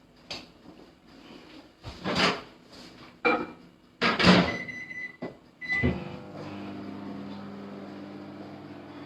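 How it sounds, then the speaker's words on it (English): A microwave oven used to heat caramel for thirty seconds: loud clunks of the door and handling, then a steady, even mechanical hum as it runs. "So for 30 seconds I'll just microwave it so that I can spread it evenly."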